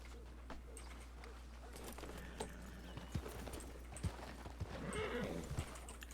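A horse's hooves clip-clop in a Wild West roleplay game, a faint uneven clopping with a brief whinny-like sound and light ambient bird noise over a low steady hum.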